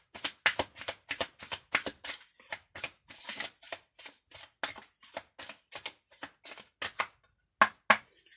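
Playing cards being shuffled for a card reading, a rapid series of crisp riffling bursts repeating in quick, fairly regular rhythm, close and clear with short pauses between.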